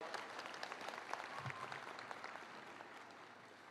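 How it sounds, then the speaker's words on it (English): An audience at a university commencement ceremony applauds, steady crackling clapping from a large crowd heard at a distance and fairly soft, holding evenly throughout. "Give her a big round of applause."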